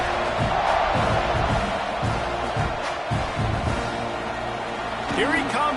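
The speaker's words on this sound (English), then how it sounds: "this crowd is feeling themselves after that last drive" A football stadium crowd roars steadily during a kickoff, broad sustained cheering and noise filling the space, with a public-address or commentator voice rising over it near the end.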